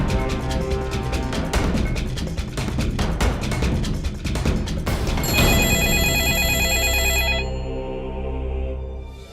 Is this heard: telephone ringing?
yes